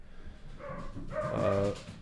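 A young dog upstairs gives a short run of muffled, whiny barks and yips that rise toward the end, heard indoors through the ceiling at moderate loudness.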